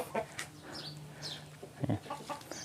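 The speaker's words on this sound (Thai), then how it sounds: "นี่เป็นฟาร์มไก่ชนน้องเขย ซุ่มไก่ชน" Fighting cocks at a gamecock farm give short crows and clucks at moderate distance, several separate calls over quiet background.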